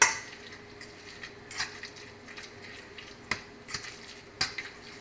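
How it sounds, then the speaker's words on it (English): Burger meat and egg are mixed in a bowl, making soft squelching and scattered sharp clinks against the bowl at an irregular pace. The sounds are fairly quiet and close, with no talking. "And you just mix it well together, all together."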